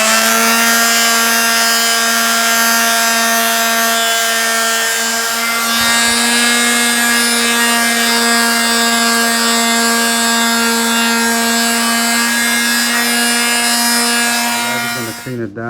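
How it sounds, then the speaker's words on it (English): A power sander runs loud and unbroken over an old wooden door with 100 grit sandpaper, a strong steady tonal whine with rough grinding beneath that stops abruptly at the end. "So we just sand it down and let's see how it comes out."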